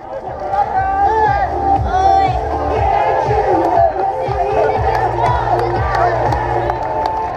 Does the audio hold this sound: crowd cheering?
yes